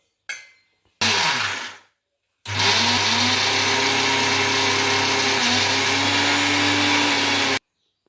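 Mixer grinder pulverizing a spice masala with sugar and salt, running in two bursts: a short whirring pulse that winds down, then a loud, steady high-speed grind that holds for about five seconds before cutting off abruptly.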